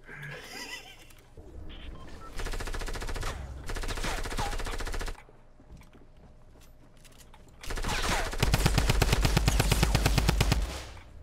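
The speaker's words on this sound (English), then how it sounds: "was that actually you shooting at him?" Rapid automatic gunfire in the video game Fortnite rattles in several sustained bursts with quieter gaps between them, the last burst the loudest and closest, with faint players talking in the background.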